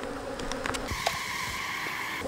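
Honeybees swarm around an opened hive during a hive split, a loud dense buzzing that hums steadily close by, with individual bees whizzing past.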